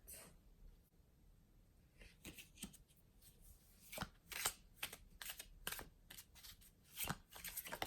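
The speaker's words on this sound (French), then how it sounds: "Allez, je vais vous tirer une dernière carte." Tarot cards are shuffled by hand to draw one, giving quiet, close, irregular riffling and slapping sounds in rapid bursts with no talk.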